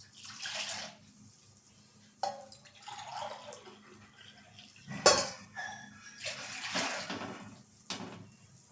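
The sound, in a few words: water being poured into a pot on the gas stove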